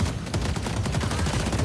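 Turrets in the video game Deadlock fire a sustained barrage of rapid gunshots, dense overlapping bursts with a heavy low boom running continuously and loudly throughout.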